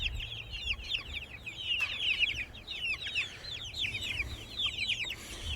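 Young meat chickens cluck and chirp continuously as a group while being moved into a chicken tractor outdoors, a busy overlapping chorus of short calls at steady, moderate loudness with no talking.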